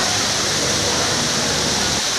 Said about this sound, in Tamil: இந்த அருவி வந்து கிட்டத்தட்ட முந்நூறு அடி உயரத்துலேருந்து கொட்டிக்கிட்டு இருக்கிறது